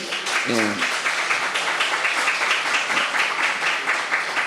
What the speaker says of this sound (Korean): 한번 박수로